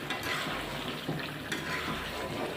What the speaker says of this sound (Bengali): এবার আমি খুন্তি দিয়ে আস্তে করে নেড়ে দেব।